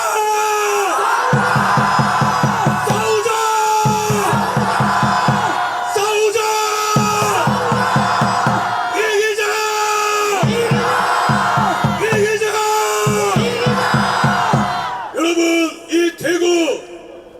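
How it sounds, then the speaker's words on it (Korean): A large crowd at a Daegu rally against impeachment loudly chants a short slogan in unison, in about seven rhythmic, evenly spaced bursts, ending with a few quicker shouts. "우리 한번 시작하기 전에 구호 한번 외치겠습니다. 첫 번째 싸우자입니다. 싸우자!"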